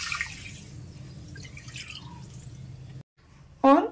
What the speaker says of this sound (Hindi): अब इसमें पानी डालेंगे चीनी में, चाशनी जब तैयार करनी होती है।